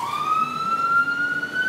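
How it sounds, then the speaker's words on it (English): An emergency siren wails in a single long rising sweep, loud and fairly close, with a low traffic rumble beneath it and no speech. "More of these sirens."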